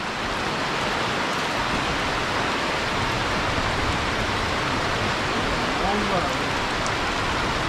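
Heavy rain pours down steadily in a rural forest setting, a dense unbroken hiss of water striking surfaces, loud and close, with a faint voice briefly audible underneath.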